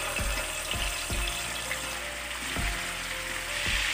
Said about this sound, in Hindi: इसी में हम चिकन को फ्राई कर रहे हैं।